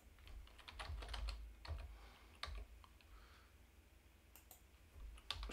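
Code being typed on a computer keyboard, heard as quiet, irregular bursts of key clicks with short pauses between the runs and a soft room hiss underneath.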